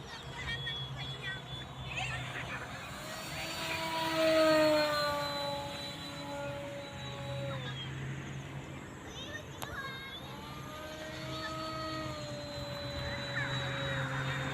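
A homemade 90 cm Sporter radio-controlled foam model airplane flies overhead, its electric motor whining thinly and swelling and fading as it passes at a distance, while someone talks throughout.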